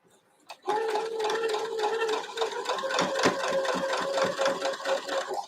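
A sewing machine stitching quilt pieces runs steadily and close for about five seconds after a brief start, its whirring motor carrying a sustained tonal whine and a rapid clattering needle rhythm, with an irregular odd knock partway through.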